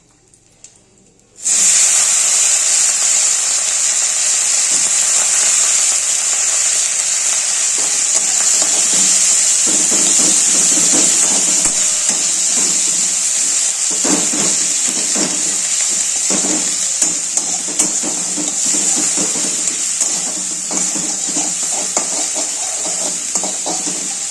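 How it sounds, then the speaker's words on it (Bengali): Chopped onions and green chillies hit hot oil and break into a loud, steady sizzle that starts abruptly and carries on with little variation, with occasional faint clinks of stirring. "কেটে রাখা পেঁয়াজ আর লঙ্কাটা এর ভিতরে দিয়ে দেবো"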